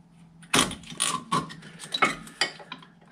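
Metal clicks and scrapes as a screwdriver shoves the brake pad springs back into place on a MK4 Golf front brake, a series of about six sharp close knocks over a quiet background.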